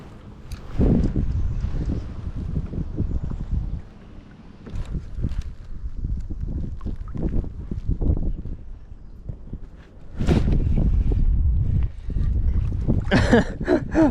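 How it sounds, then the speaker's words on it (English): Gusty wind buffeting a kayaker on the Erie Canal, heard as low rumbling bursts that rise and fall repeatedly, with faint water and paddle sounds between gusts. "I'm getting gusts behind me and it is propelling me."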